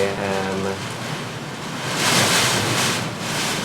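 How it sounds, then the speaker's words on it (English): Category 1 hurricane wind roars with surging surf, a dense, loud wash that swells midway, with a brief tonal hum at the start. "experiencing a Category 1 hurricane"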